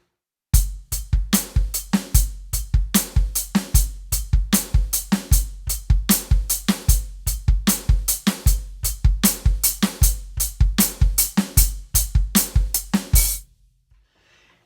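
An acoustic drum kit plays a beat slowed to around 80 BPM, with crisp kick, snare and cymbal hits in a steady groove, close and loud, ending in a ringing decay and silence.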